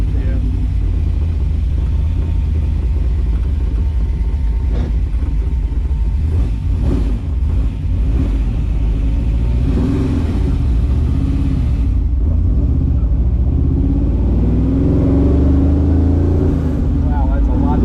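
A 1962 Corvette with a 400 small block, Holley EFI fuel injection and a Tremec 5-speed revs loudly and close, its exhaust rumbling with pops and cracks throughout.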